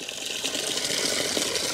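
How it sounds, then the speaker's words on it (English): Water streams steadily through a gutter filter, a continuous close splashing and rushing flow with no pauses and no talking. "Look at the water flowing here."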